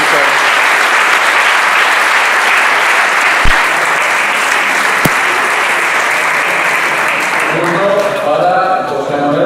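Sustained loud applause from an audience at a tribute ceremony honouring Asturian international handball players, steady and dense for several seconds before thinning toward the end, with a few sharp claps and a voice briefly audible at the close.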